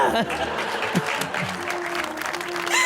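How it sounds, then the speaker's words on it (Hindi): Steady applause from a television studio audience, dense and continuous, with voices talking and calling out over the clapping. "तालियां।"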